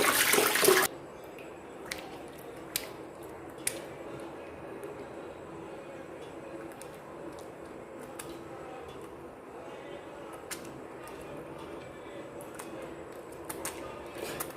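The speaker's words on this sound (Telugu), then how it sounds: "హ్యాండ్ వాష్ చేసుకోవాలి" Water runs from a tap while hands are washed at home: a loud gush at the start, then a steady faint trickle with occasional light clicks and knocks.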